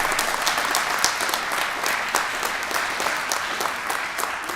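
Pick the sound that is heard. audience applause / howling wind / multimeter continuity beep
audience applause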